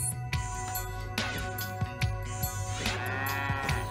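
Cows moo repeatedly on a cartoon farm, several loud, close bellows overlapping in quick succession with rising and falling tones, set over a light musical background.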